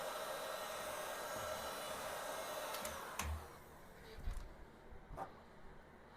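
A heat gun warms the spot on a wheel where balance weights will go: a steady, airy blowing hiss for about three seconds, then it cuts off, followed by scattered handling knocks and clicks.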